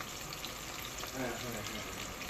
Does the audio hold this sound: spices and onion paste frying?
yes